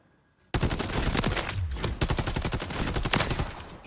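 Sustained burst of automatic gunfire with incendiary rounds in the video game Warzone 3, a loud dense rattle that starts abruptly after a brief quiet moment and keeps going to the end.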